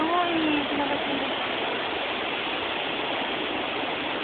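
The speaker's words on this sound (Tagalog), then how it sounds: "Unang falls lang to" Kawasan Falls, a multi-tiered waterfall, roaring as a dense, steady rush of falling water that fills the scene at close range, with a faint voice briefly at the start.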